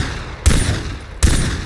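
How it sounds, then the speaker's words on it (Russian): Gunfire in the video game Far Cry 3, two sharp loud shots roughly three-quarters of a second apart, each with a short ringing tail. "Какой звук стрельбы охрененный, да?"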